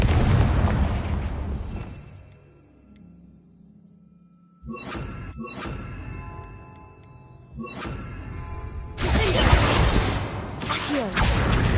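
A Confringo blasting spell goes off in a Hogwarts wizarding video game, a sudden loud burst at close range followed by several sharp bangs and a rumbling, crackling blast that builds toward the end.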